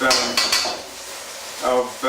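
Metal clanks and scrapes as food is tossed around in a wok, a few sharp knocks with sizzling in between.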